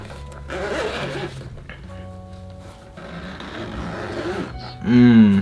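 A zipper is drawn open on the carrying case of an Xbox Elite Series 2 controller in one steady pull. It is close and clear, with a louder rasp near the end and no talk over it.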